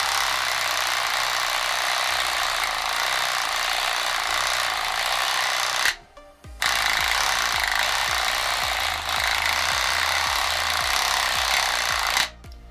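Motorized Mandalorian vibroblade prototype cutting through material: a loud, rattling, jackhammer-like motor buzz that cuts out abruptly twice, with a rapid ticking mechanical clatter after the first restart.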